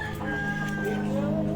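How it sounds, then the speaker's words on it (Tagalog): Chickens cluck and call nearby in rural Balete, Lipa, Batangas, with drawn-out tonal crowing-like notes over a steady background murmur. "Yan, mga manok."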